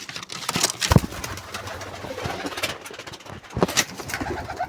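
Domestic pigeons cooing close by, a male with eggs and chicks nearby; soft repeated coos with wing and rustling sounds in two louder bursts, no voices.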